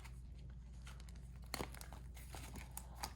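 A clear plastic zipper pouch on a daily planner crinkles softly and is tugged open, with a few quick crisp plastic rustles over a low background hum.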